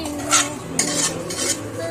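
A utensil stirring chicken masala in a pan, with a few scraping, clinking strokes over a soft, steady sizzle close up.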